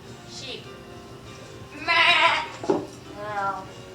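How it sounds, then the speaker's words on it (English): A sheep bleats in a short burst of wavering, nasal cries near the mic, with a second briefer bleat after it and some voice-like sound around them. "Sheep."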